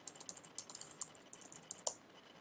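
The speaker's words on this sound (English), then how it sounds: "So now type the correct password." A password being typed on a computer keyboard, a quick run of light, close key clicks in an uneven rhythm, quiet and alone.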